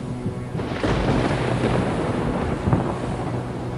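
Stormy sea on a lake, with wind roaring and surging waves churning continuously, low rumbling like thunder underneath, dense and steady with no voices.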